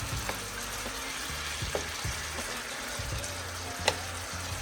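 Butter melts in a pan for lobster scampi, sizzling steadily and close with soft crackles and a low continuous hum, punctuated by a few light utensil taps.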